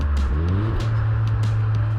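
A Toyota GR Corolla engine blips and revs briefly during a rev-matched manual downshift, a close, throaty rising note settling into a steady hum.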